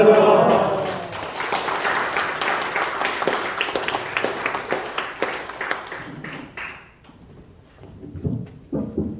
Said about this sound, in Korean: 할렐루야 손 들어서 힘차게 박수하면서 환영하도록 하겠습니다